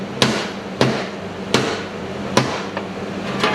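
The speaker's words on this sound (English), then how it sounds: "go like this on the corner, hit the pan on each side near the bolt hole" Sharp metal hammer strikes on the corners of a Toyota Camry transmission pan resting on a flat, hard surface, five spaced blows about half a second to a second apart, each loud with a ringing tail.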